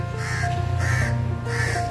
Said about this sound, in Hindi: कौवा कौवा कर रहा है